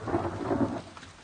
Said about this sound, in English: And it had come on to rain.